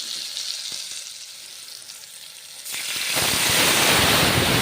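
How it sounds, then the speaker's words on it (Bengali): Ground spices hit hot oil in a pan for a ridge gourd curry, starting with a quiet hiss and then erupting into a loud, steady, crackling sizzle that fills the second half. "কষে নেব মশলা।"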